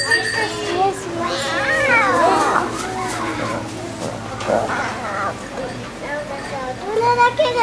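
A lion cub crying for food, its plaintive meow-like wails rising and falling repeatedly over close, continuous human chatter and soothing talk.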